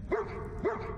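Two quick barks from a dog in Fallout 4, close and clear, spaced about half a second apart over faint game background noise.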